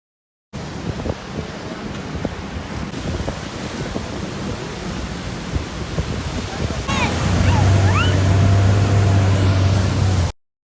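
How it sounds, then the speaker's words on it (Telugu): Rhine Falls, Europe's largest waterfall, roars as a steady broadband rush, growing louder partway through as a low hum joins beneath it. "ఈ water falls యూరోప్లోనే largest water falls అంట"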